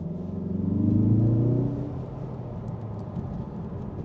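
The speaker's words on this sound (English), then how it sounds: "Let me actually show you how the engine sounds like." A 2025 Mazda3 Turbo engine while driving in manual mode, giving a low grunting hum that swells as it accelerates for about a second and a half, then settles into a steady cabin rumble.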